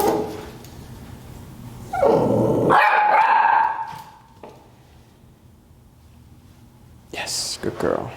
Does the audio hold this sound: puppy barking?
yes